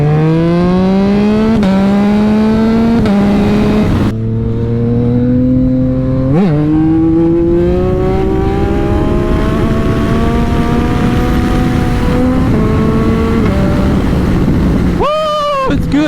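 A Yamaha MT-09 motorcycle engine while riding, loud and close with rising revs that climb through the gears, dropping briefly at each shift, under strong wind noise.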